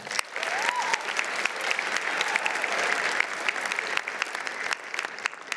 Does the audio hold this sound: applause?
yes